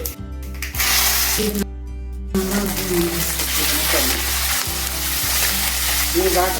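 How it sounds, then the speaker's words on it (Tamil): Garlic and shallots sauté in hot oil for a garlic and curry leaf kuzhambu, giving a loud, continuous close sizzle that flares whenever the pan is stirred or tossed. "சின்ன வெங்காயம் நல்லா தூக்கி எடுத்து நல்லா வதக்கிக்கோங்க"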